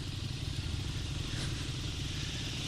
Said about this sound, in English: Look, I'm going 8 miles an hour in second gear.